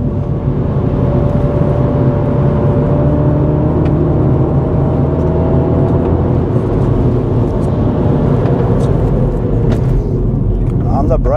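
A 2021 Mini John Cooper Works holds a constant-radius turn, its engine and road noise forming a loud, steady, unbroken drone heard from inside the car.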